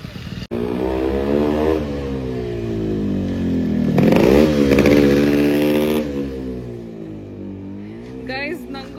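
A motorcycle engine runs close by. Its harmonic drone climbs to a louder rev around the middle, then settles back to a steady idle.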